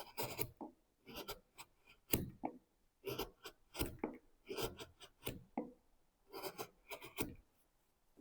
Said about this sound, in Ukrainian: Проти волокна йдемо по липі.